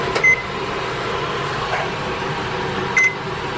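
An oven's control panel is set to heat to 350 degrees, giving two short electronic beeps, one near the start and one near the end, over a steady background hum.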